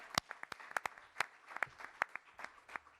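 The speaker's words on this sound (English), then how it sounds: "Let's give them a strong round of applause" Audience applause at a governor's COVID briefing during Bronx Week, heard as a quiet, sparse scatter of distinct claps rather than a full ovation, tapering over a few seconds.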